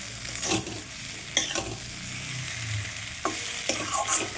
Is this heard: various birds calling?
no